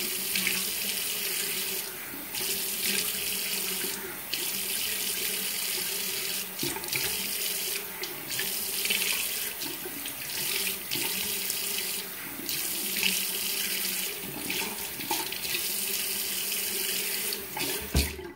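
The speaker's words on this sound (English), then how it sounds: "then we're going to just rinse in the sink" Tap water runs into a bathroom sink in a continuous close stream, splashing and shifting as hands move through it, with no talking.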